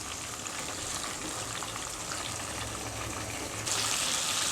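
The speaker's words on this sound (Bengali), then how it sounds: "চিকেনগুলো আমি একটু ব্রাউন কালার করে ভেজে নেবো" Chicken pieces fry in a pan for a Bangladeshi-style chicken jhal fry, giving a close, steady, hissing sizzle that suddenly grows louder and brighter near the end.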